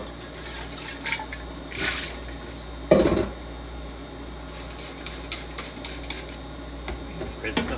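A glass jar that previously held meats is rinsed under a running sink tap during mead making, with short bursts of splashing water, clinks of glass and a low steady hum from the room.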